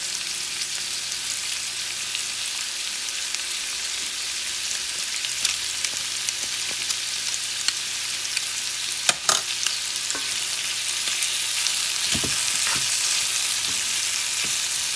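Shrimp sizzle in oil in a pan, a steady bright frying hiss lasting throughout, broken by a few clinks and stirring knocks.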